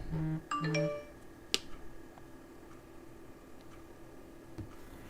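A phone notification chime sounds near the start, two quick tonal tone bursts, followed by a sharp click and faint room noise while the volume is switched off.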